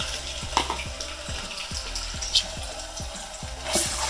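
Tomato sizzles and crackles in hot oil for a tomato rice dish with fish, a steady close frying hiss with small pops and occasional stirring clatter.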